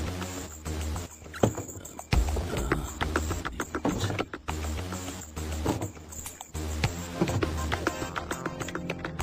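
In a video game, horse hooves clip-clop in a steady quick rhythm, mixed with dense game sounds and music.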